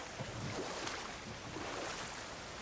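Steady rushing roar of a waterfall in God of War Ragnarök, a continuous broad wash of falling water heard from a moderate distance with no talk over it.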